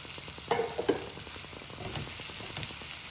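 Beef and bacon sizzle and fry in butter and bacon fat, a close, steady crackle with a few louder stirring clatters near the start and no talking.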